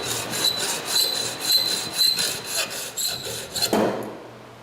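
Steady back-and-forth rasping strokes of a hand tool cutting excess metal from a forged blade, rhythmic and close, ending with a sharp scrape and then quiet.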